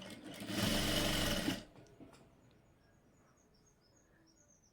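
Sewing machine stitching front darts on a blouse in a single short burst of whirring, followed by quiet room tone with faint chirps in the background.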